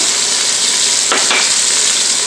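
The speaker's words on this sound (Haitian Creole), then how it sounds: "moi mettez les oignons là dans la chaudière" Onions go into a hot cooking pot and sizzle loudly and steadily, with a brief stirring scrape about halfway through and no voices.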